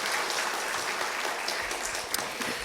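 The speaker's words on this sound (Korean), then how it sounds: "축하의 박수로" A church congregation in Korea applauds in welcome at a Sunday service, a dense, even wash of clapping that holds steady throughout with no talk.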